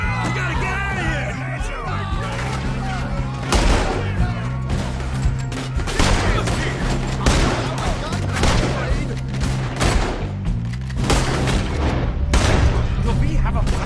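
Rapid gunfire crackles through a shootout in Red Dead Redemption 2, repeated loud shots and bursts stacked over a driving music bed, while characters shout and talk throughout.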